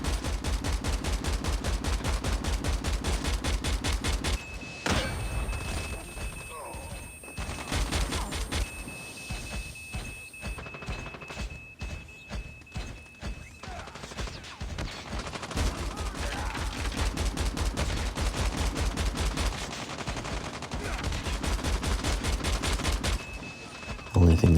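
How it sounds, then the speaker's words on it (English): Machine gun fire from a giant armored mech in Call of Duty Mobile, rapid continuous bursts of gunfire repeating for long stretches with brief pauses and a steady tone beneath, loud and dense throughout. "Gives you a giant armored mech with a machine gun."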